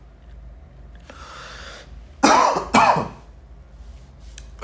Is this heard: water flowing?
no